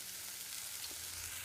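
Mushrooms frying in oil in a pan give a soft, steady sizzle, faint and even throughout a brief moment, with no voices.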